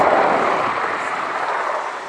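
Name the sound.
Boeing AH-64 Apache attack helicopter flying display manoeuvres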